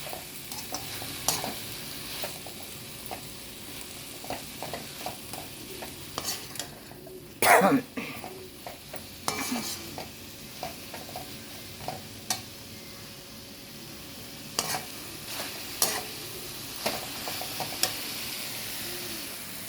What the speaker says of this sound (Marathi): परत हलवूया आपण, नाही तर भाजी ती बुडायला लागेल ना, म्हणून हलवावं लागतं सारखं सारखं.